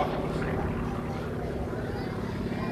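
A Yak 50 aerobatic airplane performs at the 2007 Rygge air show, its steady propeller drone carrying continuously at moderate distance while a commentator talks over it.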